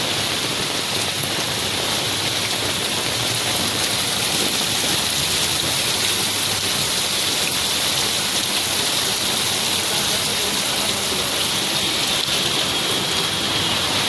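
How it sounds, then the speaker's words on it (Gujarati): Heavy, continuous monsoon rain in Surat, a dense steady roar of downpour with no breaks, loud and close throughout. "મિત્રો, આજે ચોથા દિવસે પણ સુરતમાં સતત વરસાદ ચાલુ છે।"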